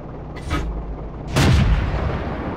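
Artillery fire from a Sturmpanzer 2 in the tank game World of Tanks: a softer distant boom, then a louder, heavier blast about a second later, both followed by a low rumbling tail.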